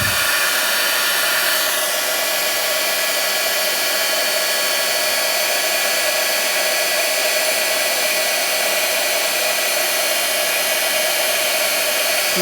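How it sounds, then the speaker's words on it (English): An embossing heat gun blows hot air in a loud, steady, continuous whoosh, holding constant throughout with no talking. "I will bring the embossing gun back in again. Heat it up."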